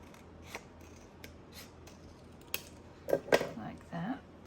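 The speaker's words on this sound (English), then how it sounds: "Cut that down." Scissors cut craft material for a unicorn jewellery book box, a few faint, close snips and a clustered pair of sharper cuts near the end against a quiet background.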